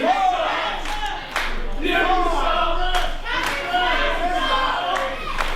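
A wrestling crowd at a British Rules match shouts and jeers at a wrestler with rhythmic clapping mixed in, the noise swelling and dipping in loud chanting waves close by.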